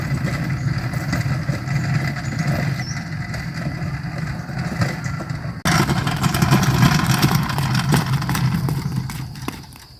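A homemade vehicle built from scrap metal runs under its rider, its engine a rough, steady mid-pitched chugging close by that grows louder and busier partway through.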